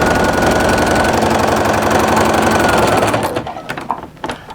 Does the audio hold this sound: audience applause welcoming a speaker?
no